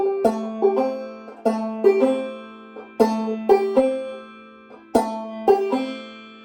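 A clawhammer banjo plays a drop-thumb pattern up close: sharp twangy notes in a repeating rhythmic cycle with short pauses between phrases.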